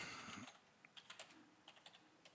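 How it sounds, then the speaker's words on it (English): Typing on a computer keyboard, a brief run of light, irregular key clicks close by, following a burst of broadband noise at the start, with no voices. "my typing is pitiful"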